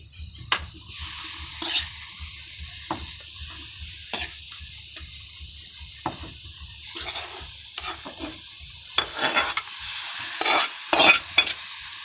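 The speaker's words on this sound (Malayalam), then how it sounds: "എന്നിട്ടങ്ങ് നന്നായിട്ട് ഇളക്കി യോജിപ്പിക്കണം. അരപ്പെല്ലാം യോജിപ്പ് പിടിപ്പിക്കണം." Chicken is stirred into a spice paste frying in a pan for a Kerala-style curry, with a continuous sizzle broken by repeated scraping strokes and clinks of a spoon against the pan.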